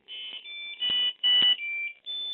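Robotis CM-50 controller buzzer emitting a series of short, high electronic beeps in quick succession, clear and close with small pauses between tones.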